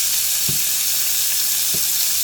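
Shrimp frying in a pan, a loud, continuous broadband sizzle close up, with two soft low knocks of the pan or utensil breaking through the hiss.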